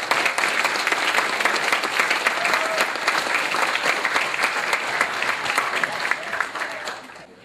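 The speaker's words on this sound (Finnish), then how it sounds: "Heille annetaan nyt tässä vielä oikein arvokkaat aplodit" A crowd at a geocaching event in Tampere gives sustained applause for the sponsors, thick and even clapping that carries on for several seconds before tapering off at the close.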